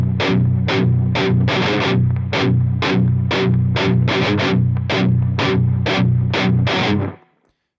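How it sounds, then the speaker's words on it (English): A heavily distorted electric guitar chugs through the 'You Can't Kill Me' riff in standard tuning, with loud, tight, rhythmic palm-muted power chord bursts and short gaps, close up with no talking, ending abruptly. "So we're now at the You Can't Kill Me riff, which sounds like this."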